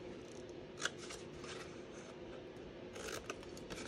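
Scissors snip through a paper treat box, cutting off small rectangles: a few quiet, close crisp snips with light paper rustling, and no voices.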